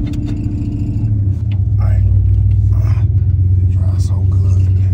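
A G-body car cruising with a low, steady engine rumble and road drone inside the cabin, swelling slightly after a second or two, with soft voices talking faintly over it.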